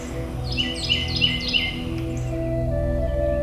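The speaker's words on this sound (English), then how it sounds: "A chorus of birds heralds a new beginning." Several birds sing and chirp in a spring chorus across the Mississippi Delta flatlands, repeated bright phrases rising over a steady low background hum, with no talking.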